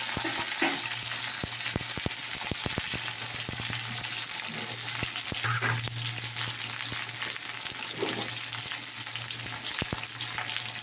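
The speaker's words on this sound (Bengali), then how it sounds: "এটা একটুখানি ভেজে নিতে হবে।" Bitter gourd frying in hot oil, giving a continuous dense sizzle with scattered crackling pops and a few soft stirring scrapes, close and fairly loud with no voices.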